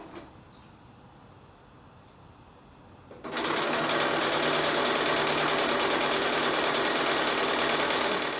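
A sewing machine stitches the sides, top and bottom onto a quilt block, starting quietly and then running steady and loud without a break for the last five seconds.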